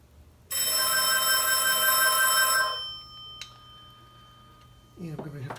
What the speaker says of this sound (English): I'm going to have to go answer the phone.